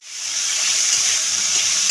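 Potatoes and taro seasoned with salt and turmeric fry in hot oil, giving a steady, loud, close sizzle that swells in at the start and then hisses evenly without any voices.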